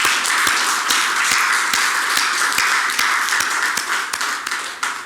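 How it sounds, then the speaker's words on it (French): Scholarship students are applauded with steady, dense clapping from a crowd, with sharp individual claps standing out above the wash, continuous and fairly close for several seconds. "Il m'a dit « applaudis-les de ma part », donc je le fais"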